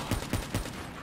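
Gunfire in the zombies mode of Black Ops 3, three evenly spaced punchy shots close up over a busy game soundscape.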